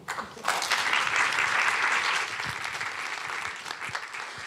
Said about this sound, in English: Please give a round of applause for Uplift Micro Home.